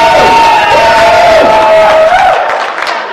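Loud audience cheer from a startup event crowd giving a standing ovation, sustained whooping and shouting voices for about three seconds before tapering off at the end.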